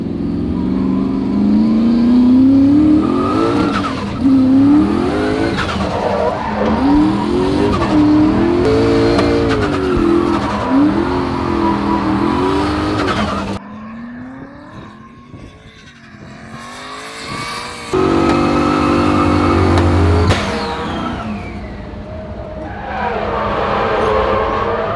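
A drift car runs hard on a snowy track, its loud engine revving up and down with tire squeal. The sound dips briefly midway as the car moves off, then roars back.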